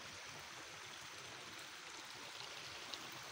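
A flooded stream rushes toward the Kosi river, a continuous, fairly quiet wash of flowing water with small gurgles, steady and unbroken throughout, with no voices.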